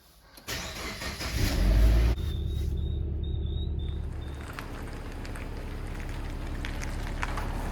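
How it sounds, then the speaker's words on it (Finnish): A Subaru car starts up and pulls away, a loud engine burst settling into a steady idle and drive-off hum that stays close and continuous throughout. "Ajetaan tää Subaru täältä pihalle."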